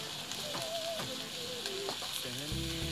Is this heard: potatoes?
yes